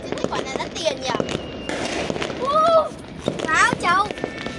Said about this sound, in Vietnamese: Bên kia có pháo kìa.